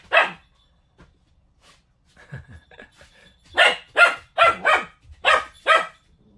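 A three-month-old puppy barks in quick repeated bursts while chasing chickens, like a hunting dog herding them, with a few softer yips early on before a run of six loud, close barks.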